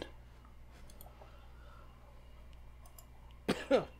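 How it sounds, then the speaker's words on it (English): One short cough near the end, close and abrupt in two quick bursts, after several seconds of near silence with faint clicks. "Yeah, I just had a little cough."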